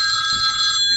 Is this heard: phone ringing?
yes